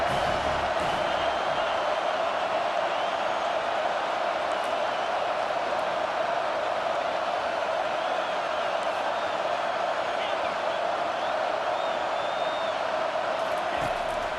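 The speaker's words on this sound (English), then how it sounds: "Decibels rising as the crowd gets behind this defense on 3rd down" A loud stadium crowd roars for the defense on third down at an Oklahoma vs Miami college football game, a sustained dense wall of cheering and whoops that lasts throughout, with no clear talking.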